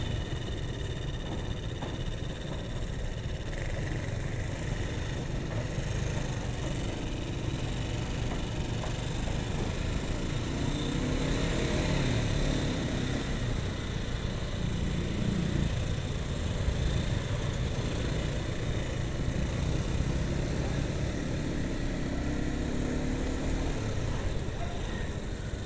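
A Honda CBR 150 motorcycle engine, a Thai-built bike fitted with a new Ferrox air filter, runs with a steady buzzing drone and faint mechanical clatter throughout, near and continuous, with no clear talk over it.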